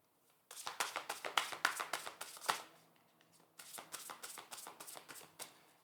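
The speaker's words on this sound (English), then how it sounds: "All right, let's pull you a card." Tarot cards being shuffled and drawn by hand: a quick run of crisp riffling slaps, a pause near three seconds, then a second burst of shuffling, close and fairly quiet with no talking.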